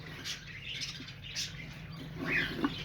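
Budgerigars in breeding cages chirp and tweet steadily, with a few brighter calls standing out near the end over a soft background hum.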